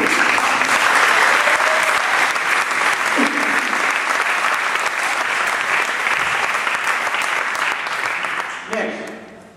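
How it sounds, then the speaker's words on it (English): Audience in a city hall claps in sustained, dense applause for several seconds before it thins and fades, with a voice emerging at the end. "This is most exciting, and you deserve applause."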